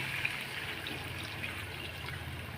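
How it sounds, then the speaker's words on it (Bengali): Water pours steadily into a simmering fish curry with taro in a home kitchen, a soft continuous trickle close by that lasts throughout, with no talk. "এখন আমি জল দিয়ে দেবো ঠিক আছে তো জল দিয়ে দিলাম"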